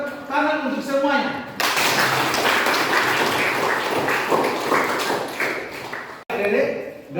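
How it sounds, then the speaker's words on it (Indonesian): Applause from a class of students after their group presentation on stopping bullying, a dense burst of clapping that runs for several seconds and then cuts off abruptly, with speech before and after it. "Kita tepuk tangan untuk semuanya."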